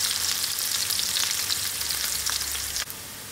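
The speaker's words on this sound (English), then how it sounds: "I will allow this to fry out" Chicken giblets frying in hot oil, making a loud, dense, continuous crackling sizzle up close, with a brief dip near the end.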